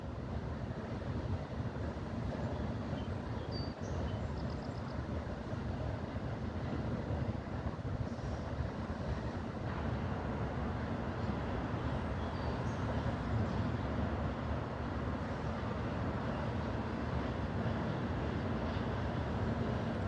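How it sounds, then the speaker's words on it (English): A model freight train runs on a North East Corridor layout, its faint, continuous rolling rumble holding steady for the whole stretch with no voices. "Just got that freight train."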